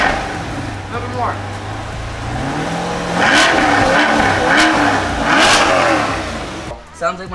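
A Chevrolet C8 Corvette Z51 with stock exhaust revs up several times, loud and close, with rising and falling engine pitch, while people talk over and between the revs.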